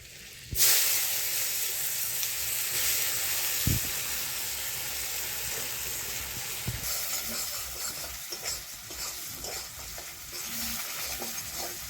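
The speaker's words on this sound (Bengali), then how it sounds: "গোটা জিরে রসুন দিয়ে দিচ্ছি" Whole cumin seeds and garlic hit hot oil with a sudden loud sizzle that settles into a steady frying hiss, with a few faint utensil clicks during the preparation of a spicy rita fish curry.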